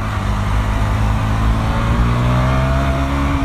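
A 2017 KTM Duke 125 motorcycle accelerates onto an expressway, its single-cylinder engine droning loud and close with a steadily rising pitch over a rush of wind.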